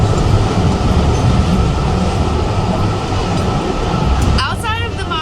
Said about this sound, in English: this train is going fast